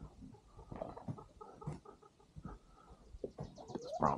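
Brahma chickens cluck softly and sporadically in a farmyard near a greenhouse. The calls are scattered and faint, with no talking.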